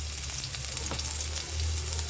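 Garlic sizzling in hot cooking oil in a wok-style pan while pancit canton is being made: a steady close crackling fry, uninterrupted and without talk.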